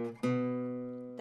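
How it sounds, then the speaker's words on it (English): A delta blues acoustic guitar walk-up on the open fifth string, one soft note and then a firmer plucked note that rings out and slowly decays, close and alone. "So you're just going to walk up that fifth string."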